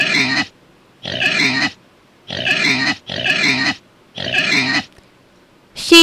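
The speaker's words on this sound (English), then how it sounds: "Pig," A pig in a sty grunts in five loud, close bursts, each about half a second long and spaced roughly a second apart, with near silence between them.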